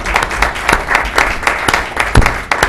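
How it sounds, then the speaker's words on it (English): An audience at a town board of finance meeting gives loud, continuous applause, with many overlapping claps forming a dense, irregular patter close by and no clear speech. "I don't know whether they're clapping because they're glad to get rid of you"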